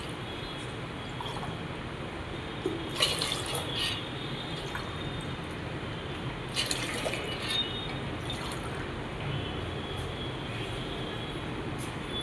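Water poured from a glass into an AMC cookware pot holding rice and dal for bisi bele bath, a steady splashing fill under broadband kitchen noise with a couple of brief louder splashes.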